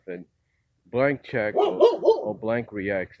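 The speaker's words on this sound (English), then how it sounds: "that's a dog in the background there." A dog barks in the background of a home recording, a few short barks partly masked by a person talking steadily over them.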